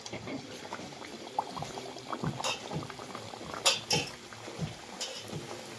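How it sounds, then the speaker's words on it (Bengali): Aloo luchi frying one by one in hot oil for a ghugni meal, a bubbling crackle with occasional louder bursts and clinks of a utensil against the pan, moderately close. "তেল গরম হয়ে গেছে এবার আমি এক একে লুচিগুলো ছেড়ে দেব"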